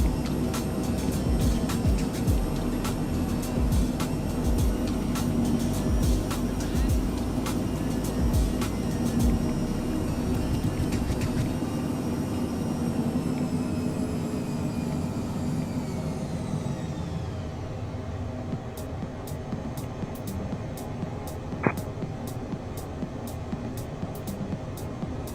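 An Embraer Phenom 100 jet lands in Microsoft Flight Simulator, a continuous droning engine whine that winds down in pitch partway through, with faint repeated ticking clicks afterward.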